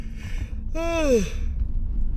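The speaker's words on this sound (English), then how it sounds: "Oh, there's the yawn." A single drawn-out human yawn with a rising then falling voiced tone, close up over a low background hum.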